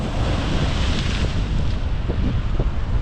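Sea waves breaking at Jivna jetty in Shrivardhan, a steady loud wash of surf mixed with heavy wind buffeting the microphone, continuous throughout with no voices.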